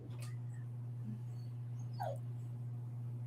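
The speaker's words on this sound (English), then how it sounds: "We can sit here and talk about her dog whining in the background." A dog whines faintly in the background. There are a few thin, rising whimpers over a steady low hum, and nobody talks over them.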